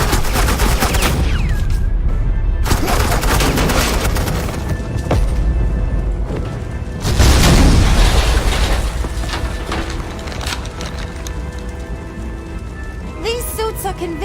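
Suppressing gunfire in Batman: The Enemy Within plays as a long, dense, crackling barrage, loud and continuous like heavy rain, with a stronger surge in the middle before thinning out. Brief voice sounds come near the end.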